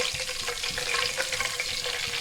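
White cumin and curry leaves fry in hot oil, giving a steady close sizzle with crackling pops and occasional stirring, with no voices.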